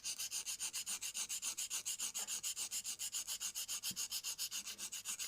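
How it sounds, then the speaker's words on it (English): Rapid, even back-and-forth strokes of a nail file on acrylic nails, a close, steady scratchy rasp repeating about six times per second with no talking. "So I'm going to do my normal filing routine, side walls first"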